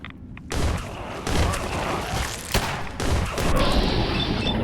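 Pistol fire in Fallout 4 while fighting mole rats, with several loud, close shots and booming impacts in quick succession over a dense, noisy combat background.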